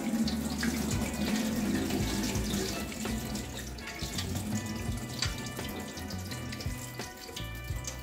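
Tap water runs steadily into a sink to rinse dried fava beans, a close, continuous splashing flow with soft drips and clatter of beans and utensils underneath, no talk.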